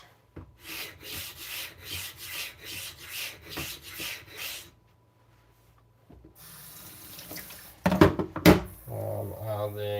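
Corners of a 52100 steel blade are rounded on a wet whetstone in quick rhythmic scraping strokes, about a dozen close rasping passes, then a pause before water trickles and a couple of louder knocks.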